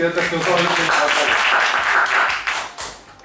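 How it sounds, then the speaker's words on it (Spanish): At a comedy contest, an audience claps for the third-place finisher, a close, uneven patter of hand claps that thins out toward the end, with a voice briefly speaking over the start. "Iker. Un aplauso."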